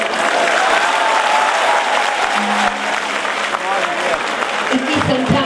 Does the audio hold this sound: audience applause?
yes